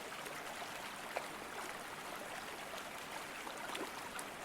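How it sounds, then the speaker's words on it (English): A mountain stream runs steadily, a continuous rushing wash of water with no pauses, moderate in level and alone without voices. "The sound of running water is ever present."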